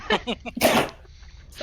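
During a tabletop role-playing game session, a person gives one short, loud sneeze close to the microphone, right after brief talking.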